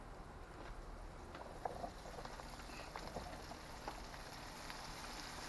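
Chicken pieces deep-frying in a small deep fryer, a steady close bubbling sizzle with occasional faint pops, heard alone without talk.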